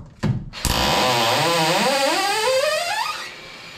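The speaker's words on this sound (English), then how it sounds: "let me see if it'll drill through this" An Alloyman 4V electric screwdriver spins up and drills into material with a steady, buzzing motor whine that bends in pitch under load, loud and close, after a couple of brief clicks, with no talking.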